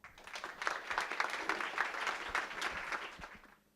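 An audience at the Type Brigade 38 design talk applauds steadily for a few seconds to welcome speaker Tom Froese, then the clapping tapers off.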